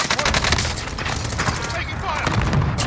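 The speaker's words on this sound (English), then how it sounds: "Taking fire." Rapid bursts of automatic gunfire from the Call of Duty: Modern Warfare video game, a dense continuous fusillade with scattered louder shots, mixed with players' voices talking over it.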